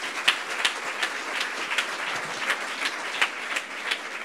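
Applause from the audience at a 2012 automotive awards ceremony, with scattered individual claps standing out from a moderate, fairly distant crowd clapping that continues evenly, without speech.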